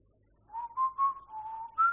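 A man whistles a short tune alone, a few clear sustained notes gliding between pitches after a quiet start, close and moderately loud.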